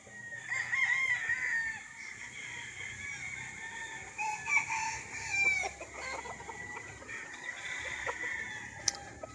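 Roosters crowing and hens clucking on a rural farm lot with young birds and brood hens, several overlapping calls at moderate distance against quiet outdoor background, no talking.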